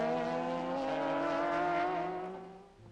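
Nissan race car at a 2002 Japan GT Championship round spinning around and sliding into a gravel trap, a sustained engine drone with shifting pitch that fades out near the end.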